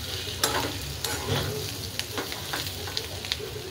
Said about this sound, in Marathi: थोडीशीच कोथिंबीर टाकूया